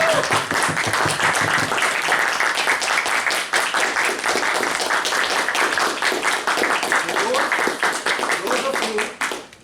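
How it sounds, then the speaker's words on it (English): A room of attendees at a Toastmasters meeting breaks into a long, energetic round of applause, dense and sustained with a few voices mixed in, ending abruptly near the close. "let's have a big round of applause to show that you are not sleeping like us"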